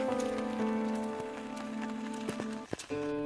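Steady rain patters down on a surface, with a faint tonal hum running underneath and a couple of brief knocks near the end.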